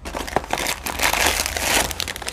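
A plastic bag of Choclait Chips Lebkuchen, chocolate chip gingerbread, is pulled open with close, loud crinkling and rustling that swells and continues throughout, with no speech.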